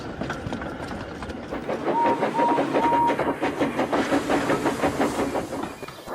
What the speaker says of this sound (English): Henry puffed the sulky Diesel into motion and started to the rescue.